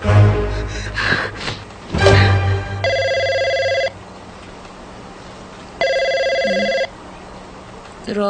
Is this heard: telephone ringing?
yes